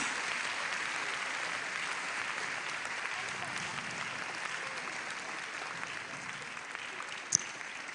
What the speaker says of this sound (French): Mighty applause.